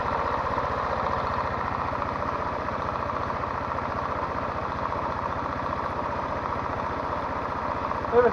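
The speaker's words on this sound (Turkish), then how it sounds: "Motorun sesi nasıl?" A Mondial ZNU 125-150 motorcycle engine, rebuilt with no air filter and the automatic choke disabled, idles steadily with a low, even chugging rumble throughout, close and fairly loud, with a slight surge at the very end.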